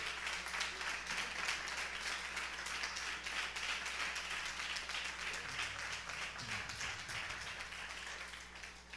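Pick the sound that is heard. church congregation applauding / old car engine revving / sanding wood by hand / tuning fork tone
church congregation applauding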